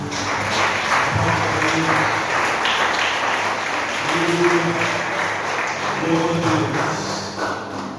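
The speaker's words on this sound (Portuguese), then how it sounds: "Você pode aplaudir ao Senhor." Church congregation applauding during a Portuguese-language worship service, a steady wash of many hands clapping for eight seconds with faint voices and murmurs mixed underneath.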